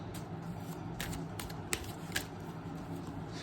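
Tarot cards being shuffled and drawn by hand, a faint, close, continuous riffle with a few soft snaps as cards are pulled out.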